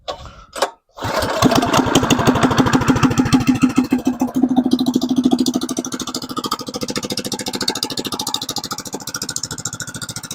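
An engine fitted with a new exhaust cranks briefly, then catches and runs with a loud, rapid, throaty putter that settles into a steady idle.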